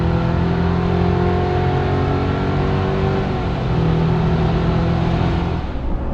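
A 2024 GMC Canyon AT4X pickup truck accelerating hard from a standstill to 60 mph, heard from inside the cab as a loud, continuous engine drone with rising tones and a gear change midway, no talk.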